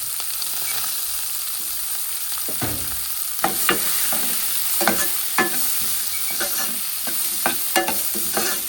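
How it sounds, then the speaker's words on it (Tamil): Onions fry in oil, sizzling steadily in a pan while a spoon stirs and scrapes in irregular clicks, close by with no voices. "அதை இந்த எண்ணெயில் ஃப்ரை பண்ணிக்கலாம்"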